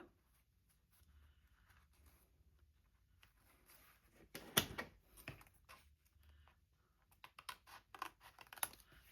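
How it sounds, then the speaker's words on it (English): Scissors cut tissue paper into a tag shape by hand, producing soft irregular snips and paper rustles with a few sharper crisp cuts, close and fairly quiet, no speech. "I think I'm going to cut this by hand."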